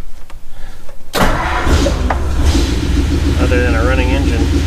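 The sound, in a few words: Ford flathead engine cold start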